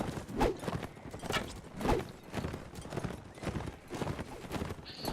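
Rhythmic horse hoofbeats from the video game Mount and Blade Warband pound in a quick galloping pattern, fairly soft, with a brief horse whinny mixed in and no speech.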